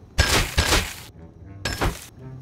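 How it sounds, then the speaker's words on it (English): Fireworks in a video game burst in three loud, sharp cracking blasts with crackling tails, two close together and a third after a short pause. "Wow, fireworks!"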